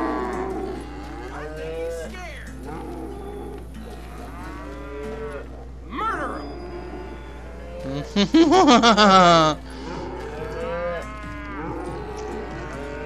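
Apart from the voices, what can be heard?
cattle mooing in Call of Juarez Gunslinger video game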